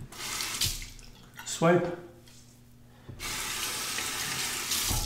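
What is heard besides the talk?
hot water running from tap to temper razor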